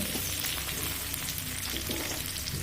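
Three dried red chillies fry in hot oil in a pan, giving a loud, steady, crackling sizzle close up with no voices.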